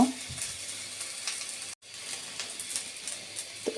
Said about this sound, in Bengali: তো এভাবে পাঁচ সাত মিনিট আমি ভেজে নিব